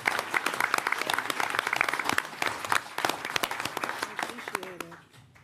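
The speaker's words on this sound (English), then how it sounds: "Please applaud your neighbors" Audience applause at a mayoral announcement on the opioid epidemic, dense steady clapping from a large crowd that carries for about five seconds before thinning out and ending.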